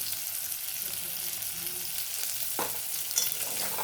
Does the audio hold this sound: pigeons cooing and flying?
no